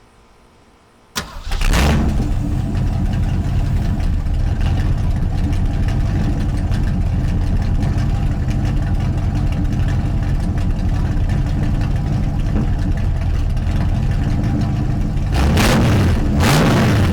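A 1968 Mustang with a 289 V8 running open headers and an H-pipe fires up with a sharp crank and settles into a loud, rough, continuous close-up idle.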